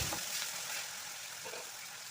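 Chopped onion and green chili frying in hot oil, being stirred for a bottle gourd and fish curry: a soft, even sizzle with faint scraping, quiet and continuous, with no talk.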